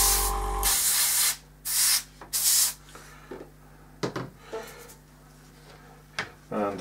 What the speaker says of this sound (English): So I'm just going to give that a light spray of the